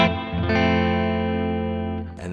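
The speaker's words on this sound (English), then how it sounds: "workman's kind of plate reverb." A sustained distorted guitar chord rings out through a plate reverb pedal in a mini box, holding steadily with a smooth, dense tail before a brief new strum at the end.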